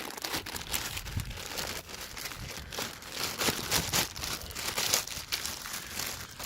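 Plastic packaging around a DeWalt DWP849X automotive polisher buffer being unwrapped makes continuous close crinkling and rustling, quiet and busy with small crackles throughout.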